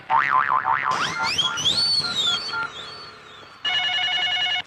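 A phone rings with a short electronic trill at the end of a comedy scene, heard after cartoonish boing and whistle-like sound effects, loud and close with no talking.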